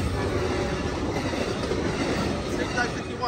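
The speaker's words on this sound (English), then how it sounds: "That train is flying on its way to San Jose." An Amtrak Capital Corridor passenger train hauled by an F59PHI locomotive roars steadily close by on a street in San Leandro, California, with rumbling wheels and rattling cars, broad and continuous throughout.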